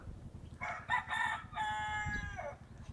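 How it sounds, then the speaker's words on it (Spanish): A rooster kept among hens gives one close, loud crow, its drawn-out call ending with a falling tail. "Este es un gallo que se cree perico."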